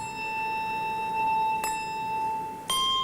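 Clear, sustained bell tones ring with long decays, and two sharp strikes add fresh chimes partway through, played on a French television music programme.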